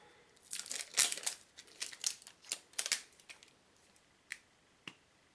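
A 100 ml bottle of face cleanser is opened up close, with crinkling packaging and a few sharp plastic clicks and snaps, quiet and intermittent.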